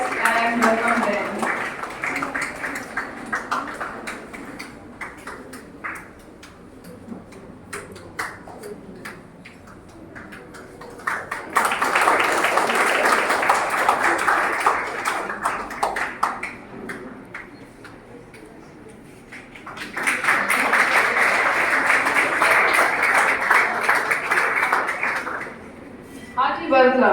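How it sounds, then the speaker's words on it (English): Audience at the Platinum Jubilee inauguration of the Bethany Educational Society applauding to welcome provincial councillors, two dense swells of clapping separated by a spoken stretch, loud and sustained. "Let's give a big round of applause and welcome them."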